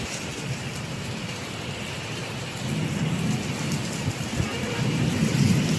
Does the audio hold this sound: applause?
no